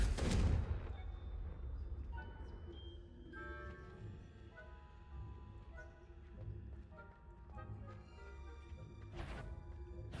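A Confringo blasting curse bursts loudly at the start in the Hogwarts Legacy video game, then fades into a low rumble with tonal game effects and another brief burst near the end.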